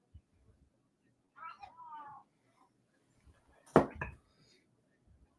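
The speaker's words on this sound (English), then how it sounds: "Sounds like Kitty wants to join" A cat meows twice, a short call followed by a longer drawn-out one, close by and fairly quiet, then a brief louder clatter.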